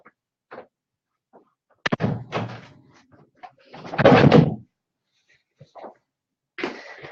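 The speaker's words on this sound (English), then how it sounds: "I'm going to go shut my door because my husband opened it." A door at home is pushed shut with a sharp thud, followed moments later by a louder rattling knock and scrape as it settles closed. A few faint household sounds surround it in an otherwise quiet room.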